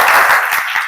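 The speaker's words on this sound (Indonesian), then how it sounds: "Beri tepuk tangan untuk Wahib" A classroom breaks into brief applause for a student, a quick burst of clapping from several pupils, close and loud.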